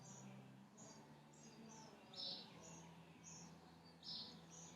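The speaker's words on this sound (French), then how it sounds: "Ici, il y a des oiseaux de toutes les couleurs." Faint birds chirp in repeated short high calls over a soft, constant outdoor background near the ocean with mountains behind, no talk.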